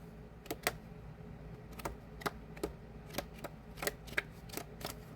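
Playing cards are shuffled slowly by hand, producing faint, crisp clicking snaps at irregular intervals, about a dozen in all, over a quiet background.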